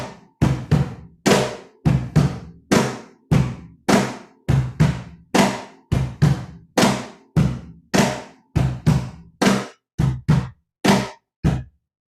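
An Afro-Peruvian landó rhythm played solo on a cajon, with roughly twenty crisp slaps and deep thumps in a slow, syncopated groove, close and full-bodied with no voices.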